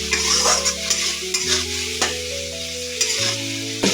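Spice paste sautéed in a pan with tomato, chillies, cumin, coriander, salt and turmeric, a loud close sizzle under repeated spatula scrapes and stirring strokes, with background music and no talking.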